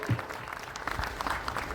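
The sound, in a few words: audience applause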